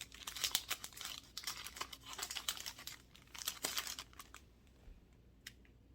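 Plastic packaging bags for car air fresheners crinkle and rustle close by in bursts of crackling handling, quietening toward the end with a few stray crinkles.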